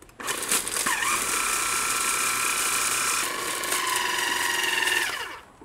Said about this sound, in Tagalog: Pero pag gumamit tayo ng food processor, mas ano lang, mas pino lang talaga siya lalabas.